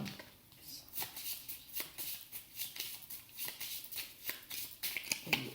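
A deck of 32 tarot cards being shuffled by hand, a steady run of soft papery riffles and slaps, close and fairly quiet, with no talk over it.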